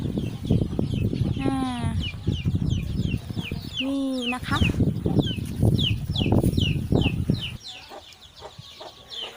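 Hen with chicks foraging on grass, soft clucking and high chick peeps scattered throughout, close by, with someone speaking briefly over them.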